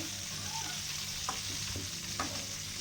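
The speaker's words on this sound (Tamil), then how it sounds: "நான் இப்போ இதை பொறிச்சு எடுக்கிறேன்" Steady crackling sizzle of black nightshade frying in hot oil, continuous and close, with a couple of faint clinks from a utensil.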